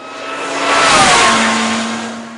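An Ariel Atom sports car revs and accelerates hard past on a time trial, swelling to a loud peak mid-clip then fading slightly, with a steady high engine whine.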